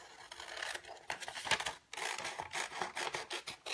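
Scissors cut around a printed photo in quick irregular snips with paper rustling between them, close up, and no one speaks.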